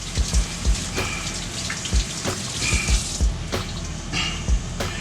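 Cold tap water runs steadily into a sink while sweet potatoes are washed under it, with repeated soft clunks and splashes of the tubers being handled, close and alone without talk.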